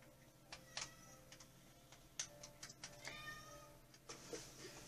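A pet cat meows faintly a few times amid quiet background ticks and clicks during a Minecraft play session, with no talking heard.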